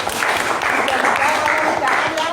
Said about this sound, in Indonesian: tepuk tangan buat Sidik